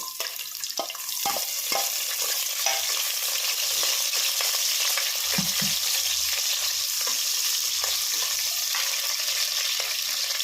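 Onions sizzle and fry in hot oil in a pan for a hotel-style chicken sambar. The hiss is loud and continuous, with scattered sharp pops and crackles and occasional soft knocks of stirring.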